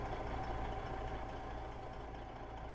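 A tractor trailer's engine idles steadily in American Truck Simulator at night, a low, even drone with a faint whine on top, heard alone and fairly quiet.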